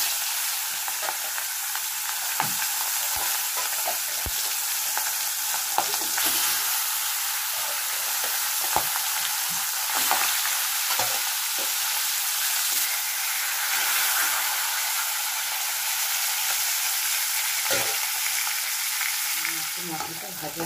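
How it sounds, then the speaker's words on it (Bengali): A salted, turmeric-rubbed katla fish head fries in hot oil, giving a loud, dense, continuous crackling sizzle with scattered pops and spatters, close up and without talk. "এবার আমি মাছের মাথাটা ছাড়ছি।"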